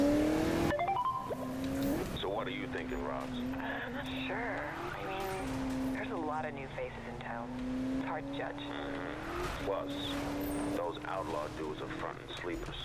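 A car accelerating and drifting in the 2015 Need for Speed racing game, engine pitch climbing and dropping through gear changes and slides, loud and steady throughout with a voice talking over it.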